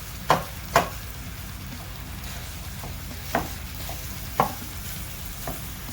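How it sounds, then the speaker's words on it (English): Sausage being chopped for a stuffed pizza: a handful of crisp, irregular knife knocks on a board, spaced seconds apart, over a steady background hiss. "let's chop up the sausage"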